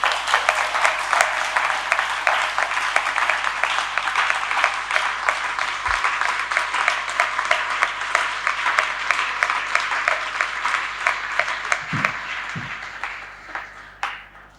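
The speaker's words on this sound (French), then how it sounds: "On applaudit la Vierge Marie." A church congregation applauding the Virgin Mary during a novena for the Immaculate Conception, a close, loud, steady burst of many hands clapping lasting about fourteen seconds before tapering off, with a few faint bumps near the end.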